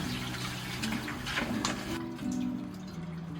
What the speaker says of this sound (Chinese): 清洗的时候，我们最好是用热水清洗